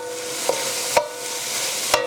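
Baked ziti ingredients being stir-fried in a pan, heard as a steady, even sizzle throughout with three brief sharp knocks or scrapes of a utensil against the pan.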